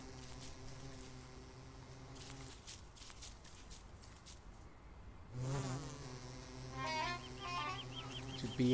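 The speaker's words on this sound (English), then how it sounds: "there's a bee" A bee buzzes in the video game Don't Starve, a faint droning hum that comes and goes over soft ambient game sounds and quiet footsteps.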